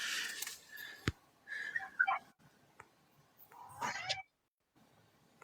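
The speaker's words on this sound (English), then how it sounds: "Oh, there's a cat right there." A domestic cat meows a few times indoors, soft close cries scattered among quiet rustles and a sharp tap, with no talk.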